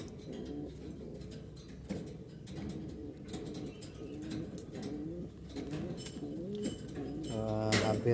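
Domestic pigeon cooing in low, repeated throaty phrases at close range during egg laying, a steady soft murmur with faint background noise and a brief louder burst near the end.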